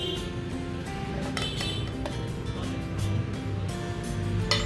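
Chopped beetroot pieces tumble into a mixer jar with a run of light clinks and taps against the container, close and fairly quiet.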